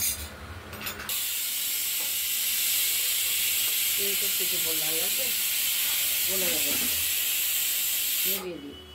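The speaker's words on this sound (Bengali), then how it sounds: "আমরা 3টে সিটি দিয়ে নিলাম প্রেসার কুকারে" A pressure cooker cooking bottle gourd greens with lentils and vegetables vents steam in a loud continuous hiss, with a whistling tone rising and wavering several times before it cuts off.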